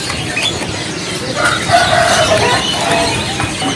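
Several canaries chirping at a bird market kiosk, including white-feathered birds, a steady bright twittering that rises in the middle and runs on under a busy ambient din, with no talk.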